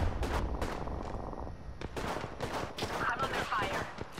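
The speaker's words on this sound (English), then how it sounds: "I'm under fire." Video game gunfire in a battle royale match, rapid bursts of shots crackling in clusters with short gaps, mid-distance and fairly loud, with a voice talking over parts of it.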